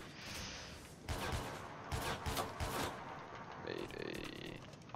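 An automatic sniper rifle and shotgun combo, the RX50, fires in the combat training mode of the shooter game Fray, a burst of fairly loud shots with a short pause between groups.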